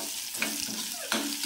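Chopped sponge gourd drops into a pan of onions and panch phoron, giving a bright sizzle with a couple of quick scraping stirs, close and short.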